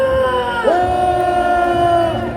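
A large crowd at a Korean street rally lets out a collective roar on cue, a loud, sustained shout whose pitch swoops upward and then holds steady for nearly two seconds before trailing off.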